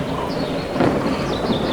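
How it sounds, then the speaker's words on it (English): A thunderstorm rumbles with a low rolling crash while heavy rain pours steadily in a dense hiss, loud and close, with no speech. "rain poured down"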